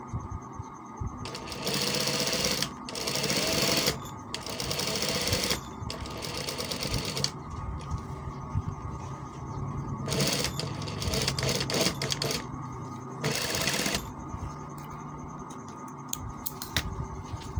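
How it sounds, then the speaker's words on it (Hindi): A sewing machine runs in repeated bursts of a couple of seconds each while stitching a kameez, with short pauses between runs and a steady hum underneath. "ये आप देख सकते हैं, ये मैं सिलाई लगा रहा हूँ।"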